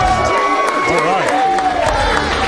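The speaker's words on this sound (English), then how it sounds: "A warm welcome from the hometown crowd." A hometown crowd cheers and claps loudly for a fighter's entrance at a CarJitsu event, with shouts and whistles rising over an excited voice talking.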